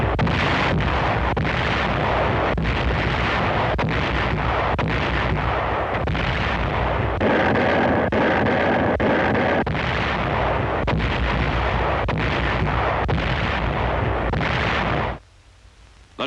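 U.S. artillery firing in wartime combat footage, a dense, loud barrage of repeated booming blasts and gunfire crackle packed close together, continuing for about fifteen seconds before cutting off abruptly.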